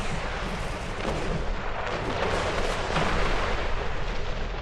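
In the video game Star Trek Online, a dense, roaring blast of explosion and weapons fire rumbles continuously with crackling bursts. It is loud and close, with no voices over it.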